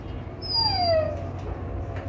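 A husky dog lets out a single drawn-out high whimper that slides downward, close by and fairly soft, against a low steady background rumble, no talking.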